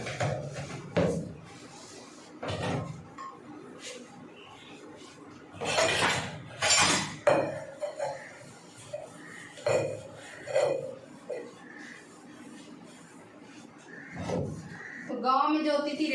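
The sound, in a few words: washing dishes, pots and utensils in a kitchen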